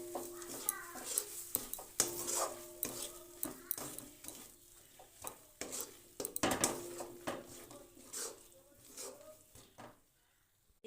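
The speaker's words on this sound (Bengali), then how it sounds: "আর এতে দিয়ে দেবো পেঁয়াজ ভেজে রেখেছিলাম, অল্প দিয়ে দিলাম, দিয়ে মিশিয়ে নেব।" Spoon scraping and clinking in a pot while fried onion is mixed into mashed flat bean (shim) bharta, with irregular close stirring taps and scrapes and brief metallic knocks, no talk.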